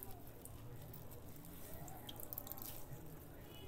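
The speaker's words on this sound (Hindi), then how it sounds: "देखिए फिर भी इसमें पानी था, वो पानी निकल रहा है।" Water draining from grated cauliflower as it is pressed and squeezed in a cotton cloth, a steady close trickle and drip of liquid with soft squishing, continuous across the moment.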